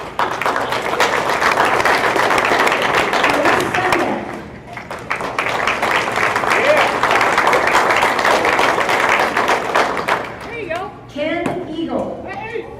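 An audience at a school wall of fame ceremony applauds in a steady, full burst of clapping that swells, dips briefly, then trails off into scattered claps near the end.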